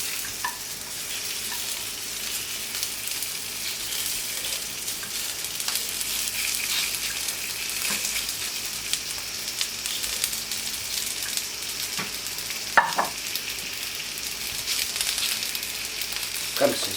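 Mirabelle plums sizzle steadily on a hot plancha, a continuous bright frying hiss with occasional louder pops and crackles, close up and without talk.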